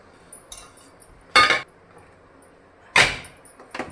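An iron tawa griddle set onto a gas stove in a home kitchen gives two sharp, bright metallic clanks a moment apart, with lighter clinks around them in a quiet room.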